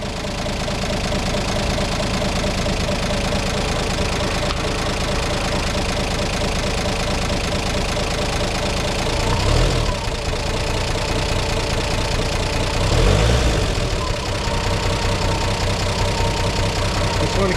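A car rewired from 6 to 12 volts idles slow and warm, a steady, loud, even engine drone with a faint knocking texture, holding constant throughout with two brief low thumps.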